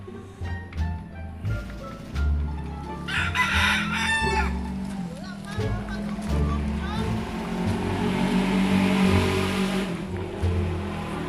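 A rooster crows loudly nearby, the call rising and stretching out, with hens clucking, an engine rumbling and people talking around it.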